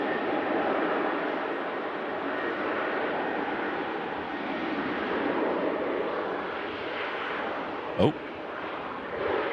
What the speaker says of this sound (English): Rejected takeoff there for the 7-3.